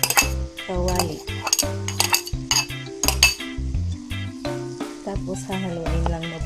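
Metal utensil clinks and scrapes in a frying pan as scrambled eggs are stirred back in with cooked cabbage, with sizzling beneath and continuous music throughout.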